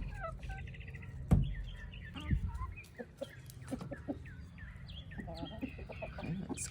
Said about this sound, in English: That's our chicken.